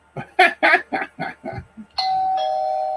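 A doorbell rings with a clear electronic two-tone chime that holds and rings out after a run of speech.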